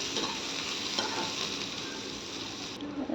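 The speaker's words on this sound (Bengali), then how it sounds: "যে খাড়া মশলাগুলো রেডি করে রেখেছিলাম সেগুলো এখন তেলের মধ্যে দিয়ে দেবো দেওয়ার পর পেঁয়াজটাও দিয়ে দেবো" Whole spices and onion frying in hot oil for a potato and jackfruit curry, giving a steady, close sizzle with faint stirring scrapes and no talk.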